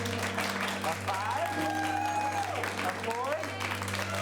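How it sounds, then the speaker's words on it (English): Audience applause at an improv comedy show, a steady wash of clapping running throughout beneath someone speaking. "Keep that applause going for Jessica, Ryan, and Kristen."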